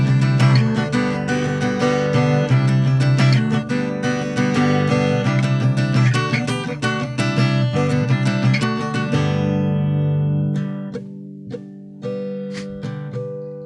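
Guitar plays the intro of a song, a bright strummed and picked pattern that rings loud and steady for about nine seconds, then thins to a few sparse, decaying notes and quiet fragments.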